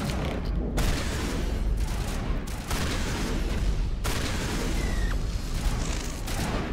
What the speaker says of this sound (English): the shotgun's a pretty effective weapon, but you gotta be really, really close for it to work right